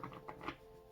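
Tarot cards shuffled by hand in a short, soft burst of papery riffling patter, close and quiet, with no voices.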